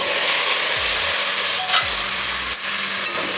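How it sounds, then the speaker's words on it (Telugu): Tomato pieces frying in hot oil with onions and green chillies for Chennai sambar, giving a steady close sizzle with a couple of soft stirring scrapes and no voices. "టమాటా ముక్కలు కూడా వేసుకోవాలి."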